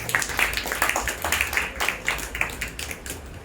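A church congregation clapping hands in rhythm during a Tamil sermon, a fairly loud, close, steady patter of claps lasting the whole stretch.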